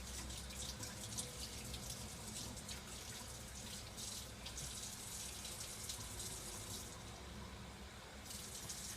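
Warm water runs from a tap into a sink, a steady close splashing gush that continues without pause for the whole stretch, with no one talking.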